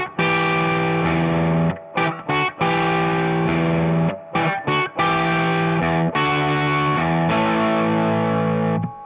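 A distorted electric guitar chugs through a riff with an added low E, loud chord stabs broken by short choppy gaps and muted hits in a steady rock rhythm.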